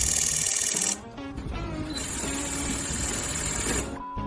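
A camera shutter fires in a rapid continuous burst, a fast mechanical whirring chatter with a brief pause partway through.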